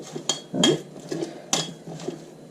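A utensil clinks and scrapes against a bowl while mixing ground spices with turmeric and red chilli, giving several sharp metallic taps and scrapes in an irregular rhythm, close and moderately loud.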